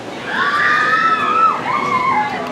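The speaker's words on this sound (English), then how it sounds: "I knew they would yell." Riders on a rapids ride at Dollywood in Pigeon Forge, Tennessee let out a single sustained group scream lasting a couple of seconds, fairly loud and distant, with no talk over it.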